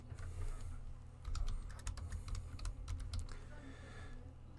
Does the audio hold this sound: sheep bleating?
no